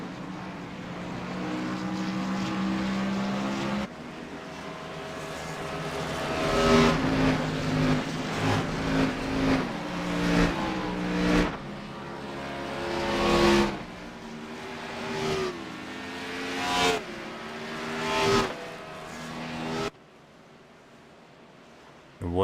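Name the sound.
race cars pulling off the grid at Talladega in a racing video game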